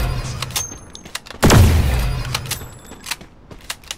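Sniper rifle fire in the Free Fire mobile battle game: one loud, booming shot with a sharp attack and a lingering tail, set among fainter game clicks and interface sounds.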